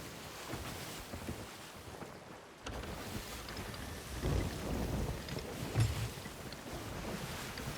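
Storm at sea aboard a sailing ship in a video game: a loud, constant rush of wind and rain over churning water, with a brief drop near the start and gusty surges later, no voices.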